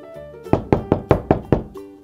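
Six sharp, evenly spaced knocks on a door ring out loud and close in a quick steady rhythm, set between soft musical tones in a children's farm-animal story.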